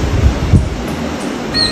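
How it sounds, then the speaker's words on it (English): Steady wind gusts on a Cancun beach, roaring across the microphone as a close, low, continuous rumble with a few stronger buffets. "It's so windy."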